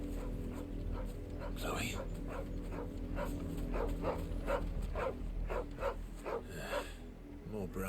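Chloe, a dog in Final Fantasy 16, gives a run of short, whimpering yips and small barks in rhythmic bursts, heard under a person speaking.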